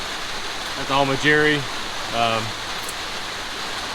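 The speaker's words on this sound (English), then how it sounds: "And the rain has started again." Steady rain falls at night during a road stop in Kentucky, a constant even hiss throughout, with someone speaking briefly over it.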